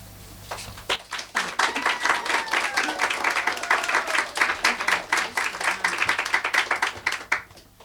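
A round of applause for the writers at a creative writing session, starting after a short pause and building into lively, fairly close clapping from a modest crowd that carries on steadily.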